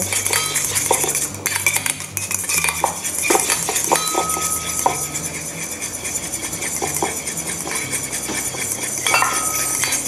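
A metal utensil clinks steadily against a bowl while salad dressing with sesame oil is mixed for a fried battered salad, a dense run of close, bright taps and scrapes with no talking.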